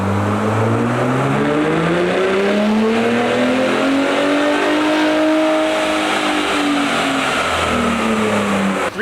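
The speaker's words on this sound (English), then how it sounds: "Here's a stock baseline run on the all-new Gen 3 Ford Raptor." A stock Gen 3 Ford Raptor truck revs hard on a dyno, its engine note sweeping up and down in long, loud pulls that rise, hold and fall, with no talk.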